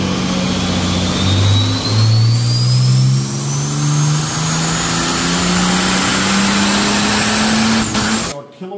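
A turbocharged car fitted with new injectors and a J3 chip revs hard on 8 pounds of boost, its loud engine note climbing steadily in pitch for several seconds before cutting off abruptly.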